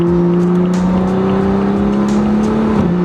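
A BMW 335i with the N55 engine drives through traffic on a cold day, its engine giving a loud, steady droning note that rises slightly as it pulls, with road noise underneath.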